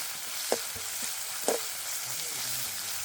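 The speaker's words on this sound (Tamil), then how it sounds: "வெங்காயம் எல்லாம் நல்லா வதங்கணும்" Steady sizzle of onions frying in a pan for Tamil pirandai thokku, with a couple of sharp clinks from a utensil against the pan.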